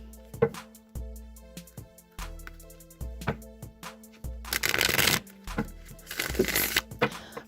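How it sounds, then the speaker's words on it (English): Crisp riffling and snapping of a Rider-Waite tarot deck being shuffled, repeated taps and slaps with two longer bursts of riffle noise, close and fairly loud. "I'm going to go ahead and shuffle the Rider-Waite deck"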